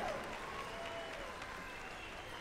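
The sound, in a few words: crowd applauding Miss Indian World contestants at pow wow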